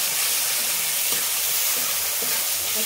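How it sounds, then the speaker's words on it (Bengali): Turmeric, Kashmiri red chilli powder and chopped green chillies sizzle and fry in a pan for a small-fish curry, a steady loud hiss with a few soft stirring scrapes, no talking. "একসঙ্গে একটু ভালো করে কষে নেবো।"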